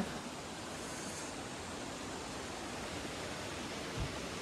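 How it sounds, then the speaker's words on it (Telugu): Banjhakri waterfalls in Sikkim give a steady, broad rushing roar of falling water, constant and even from start to finish with no voices, with only a brief low thump near the end. "ఇది పైకి వెళ్తున్న కొద్దీ వాటర్ ఫాల్ వస్తూనే ఉంటుందంటే"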